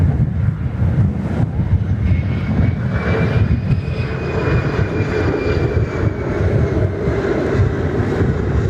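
An airliner landing at Perth Airport roars steadily and loudly with jet engine rumble, a faint whine and wind buffeting the microphone, heard from a nearby spotting position.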